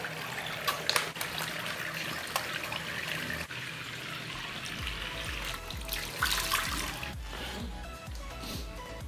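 Tap water runs steadily while a face is washed with La Roche-Posay Effaclar purifying foaming gel, a continuous close trickle and splash with a few louder splashes of hands in the stream toward the end.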